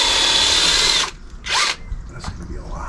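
A power drill bores into a part of a bus front wheel during seal and bearing work, whining loudly for a second and then in shorter bursts amid workshop noise.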